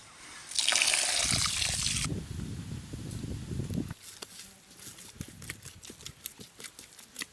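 Water is poured into a bowl while making the batter for a soft Mathura cake. A loud splashing pour lasts about a second and a half, then gives way to quieter gurgling and trickling.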